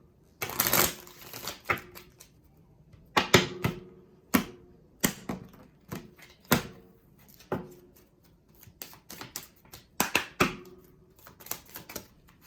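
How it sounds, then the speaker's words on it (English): Tarot cards are shuffled in quick riffling bursts, repeated a dozen or so times with short pauses between, crisp and close with no talking. "Shuffle one more time."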